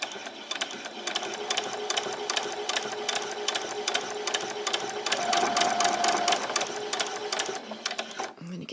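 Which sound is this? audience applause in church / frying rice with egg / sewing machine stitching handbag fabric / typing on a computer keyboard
sewing machine stitching handbag fabric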